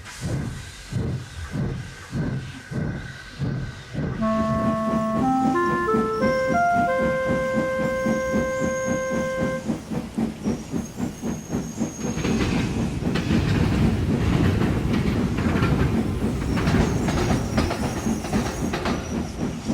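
A steam engine chuffs rhythmically along the rails pulling a train, a chord-like whistle rings out for several seconds, then the clattering rumble grows steadier and louder.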